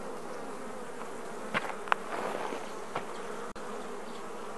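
Honey bees on a comb frame lifted from a Langstroth hive super hum in a steady, close buzz, with a few brief knocks and handling clicks.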